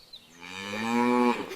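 A cow lets out one long, loud, rising moo that swells and holds before cutting off, with no other sound alongside it.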